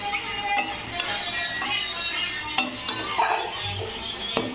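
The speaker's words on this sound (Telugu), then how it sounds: "తాలింపులో సేమియా కూడా వేసి ఇలా ఫ్రై చేస్తూ" Vermicelli fries in a tempering of oil and spices in a pan, with a soft steady sizzle under scraping stirs and occasional clinks of a spoon against the metal.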